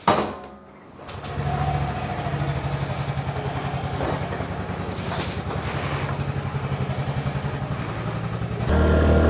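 A small Yamaha Fazzio 125 motor scooter engine idles steadily nearby with a low, even putter, revving slightly higher near the end.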